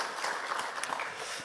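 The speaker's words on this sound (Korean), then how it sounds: "우리 박수로 한번 축복하겠습니다" A church congregation at a Sunday service claps together, a short burst of dense applause that fills the hall and carries steadily throughout.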